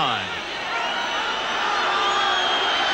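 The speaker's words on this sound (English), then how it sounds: "they're already giving an indication, this English crowd, of where their loyalties lie" An English rugby league crowd at a 1978 Kangaroo tour match gives a broad, steady roar of cheering throughout, with a commentator talking over it.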